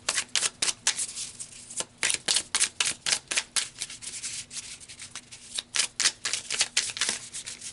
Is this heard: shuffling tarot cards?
yes